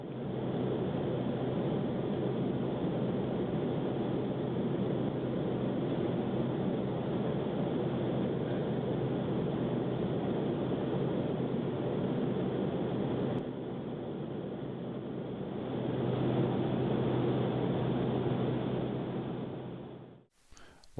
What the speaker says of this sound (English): I'll put on some MD-80 sounds that I recorded on one of my last MD-80 flights.